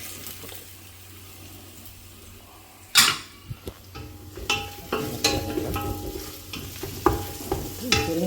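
Spices sputtering and crackling in hot oil for an Andhra-style fish curry, with sharp pops and bursts over a steady sizzle and occasional stirring clinks, close up with no talk.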